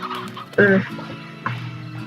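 Hens cluck in the video game Slime Rancher, giving a few short clucks up close that rise over a steady background hum.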